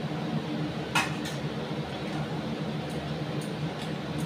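A metal lid is set onto a cooking pot with a clear clink near the start, followed by a couple of fainter taps against a steady kitchen hum.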